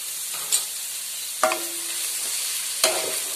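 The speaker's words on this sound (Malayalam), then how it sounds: "നന്നായിട്ട് ഒന്ന് വഴറ്റിയെടുക്കാം" Sliced onion sautéed with salt and turmeric powder in a pan, a soft steady sizzle punctuated by three distinct scrapes and clinks of a spatula against the pan.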